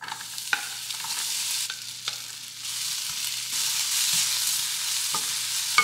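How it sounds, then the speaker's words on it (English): Potatoes fry in oil in a pan with a bright, continuous sizzle, punctuated by occasional scrapes and taps of a utensil stirring them, with no voices. "I wanna cook the potatoes a little bit first before I add the onion"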